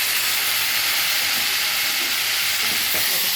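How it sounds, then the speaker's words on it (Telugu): Loud, continuous sizzle of tomato pieces dropped into a hot frying pan, a dense broadband hiss with faint stirring scrapes underneath, heard up close with no talk. "టమాటా ముక్కలు వేసేసుకుందాం."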